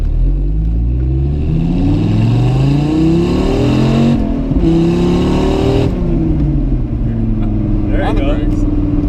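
Car engine pulling hard during a test drive, a loud naturally aspirated motor with steadily climbing revs, a brief dip around a gear change, then climbing again, with people talking over it.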